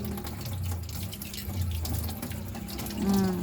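Water runs steadily from a tap while dishes are washed, splashing into a sink with a continuous rushing hiss, close by and fairly loud throughout.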